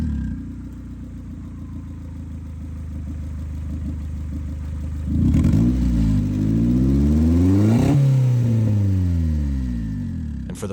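A turbocharged Honda Civic drives on a road: a steady low engine drone, then louder revving from about five seconds with pitch rising and falling through gear changes, close and continuous without talk.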